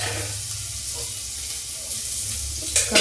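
Onion, after green chillies, dropped into hot oil for sabudana khichdi, a loud steady sizzle and hiss close up with a sharp crackling burst near the end and no talk.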